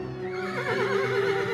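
A horse neighs in a single short, wavering whinny, loud and close, standing alone.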